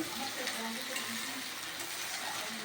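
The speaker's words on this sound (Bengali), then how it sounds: "এরপর এটাকে হালকা করে নাড়িয়ে নেবো" Mutton curry fries in a pan while being stirred: an even, close sizzling hiss with faint scraping throughout, steady in level and without pauses.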